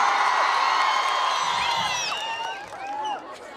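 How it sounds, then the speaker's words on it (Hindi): A crowd at the Bhuru Nag Devta fair cheers for Kartik ji's mustache, with many overlapping whoops and high shouts. The cheering is loud and sustained, then tapers slightly near the end. "एक बार हमारे कार्तिक जी की मूंछों के लिए जरा हल्ला करके।"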